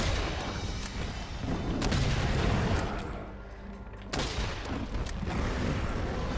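Spread shot gunfire from Monster Hunter World booms in a heavy, continuous fusillade during a hunt of the monster Barroth, with blasts rumbling through battle noise, one short lull midway and then a renewed burst.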